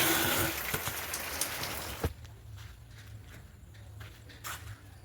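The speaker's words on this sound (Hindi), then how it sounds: "बारिश भी हो रही है, ओ तेरी।" Steady rain falls with a dense patter that is loudest at first, then softens after a few seconds, with a few scattered drops hitting nearby.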